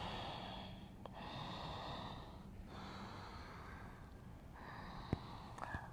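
Slow deep breathing during a Forrest Yoga class, soft airy inhales and exhales repeating in a steady rhythm, faint and close, with a few small clicks.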